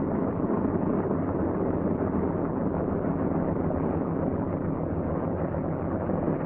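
A C-47 aircraft engine idles at roughly 600 to 800 RPM, giving a steady, unbroken drone with a low rumbling core that holds an even loudness throughout.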